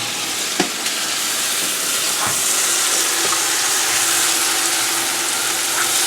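Olive oil and butter sizzle in a pan for risotto, a steady, close, bright hiss with a few soft pops and clinks of stirring, heard alone without talk.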